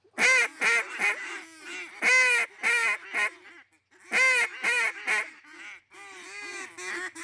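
A group of people imitate ducks with their voices, loud, close bursts of nasal honking quacks in rapid rhythmic clusters with brief pauses between them.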